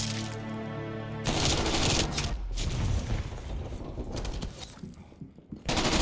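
Gunfire rattles in Call of Duty Black Ops, loud rapid bursts and sustained sprays that start abruptly after a tonal passage, with short pauses between volleys and a final burst at the end.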